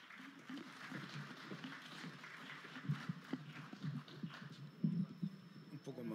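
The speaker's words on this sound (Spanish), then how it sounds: "Venga, ese aplauso para él." A festival audience at a fair applauds for a singer, with scattered, fairly faint clapping that rises and falls over several seconds, alongside a few claps and crowd murmur.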